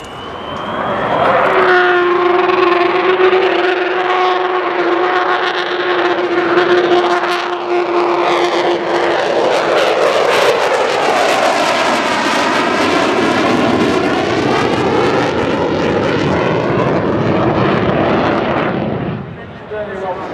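A loud, sustained jet engine howl with a rising, wavering whine, roaring continuously as an Avro Vulcan B2 bomber passes close overhead at an air show at Dunsfold.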